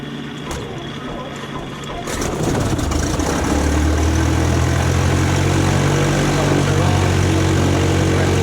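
A Beechcraft twin-engine airplane's piston engine cranks and catches after priming, rising from a quiet start into a loud, steady low running drone that holds close and continuous to the end.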